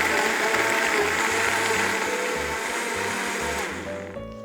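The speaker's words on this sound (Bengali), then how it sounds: "আমি শরবতটা ব্লেন্ড করে নিলাম।" An electric blender whirs loudly and steadily as it blends a black grape juice drink. Its motor hum holds with slight pulsing, then starts to wind down near the end.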